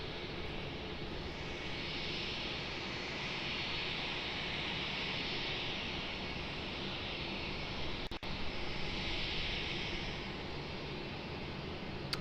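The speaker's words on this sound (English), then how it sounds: "Got another Southwest heading out for departure." A Southwest jet departing Raleigh-Durham produces a steady, distant engine roar and hiss that holds evenly, broken by a brief click, with no voices.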